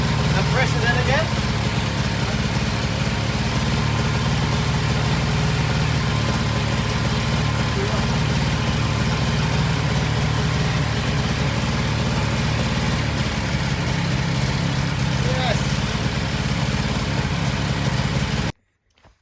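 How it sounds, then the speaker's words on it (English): A Triumph Roadster engine started in third gear with the clutch in use, running loud and steady with a continuous rough drone that cuts off abruptly near the end. "We started it up in third and then revved it like crazy"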